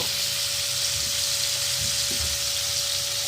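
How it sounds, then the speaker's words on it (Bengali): Cauliflower frying in oil with salt and turmeric, a dense continuous hiss of sizzling with low rumbles of the pan and a faint steady tone underneath. "এবার একটু লাল লাল করে ফুলকপিটা ভেজে নেব"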